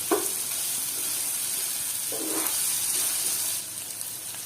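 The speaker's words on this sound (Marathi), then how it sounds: "आता मी झाकण काढून घेते आणि परत एकदा चमच्याने ही सगळी भाजी मिक्स करून घेणार आहे" A spoon stirs a black mung bean curry in a pan, giving a couple of brief scraping strokes over a constant soft sizzle, quiet and close, with no voices.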